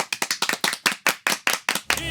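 A single person claps in steady, even beats, about ten crisp claps in two seconds, close and loud, inviting applause before a song from the Dracula musical is performed. Someone speaks briefly near the end.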